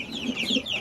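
Hens on a small Bengali poultry farm, some just starting to lay eggs, cluck in short, fairly close bursts over a steady high background chatter of other birds.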